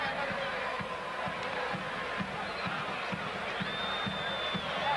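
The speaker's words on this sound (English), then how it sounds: "the crowd, you can tell from the whistling around the ground, getting that little bit frustrated again" A football stadium crowd at a 1991 Chile versus Venezuela match keeps up a steady distant roar, with sharp frustrated whistles rising above it. A commentator talks over the din.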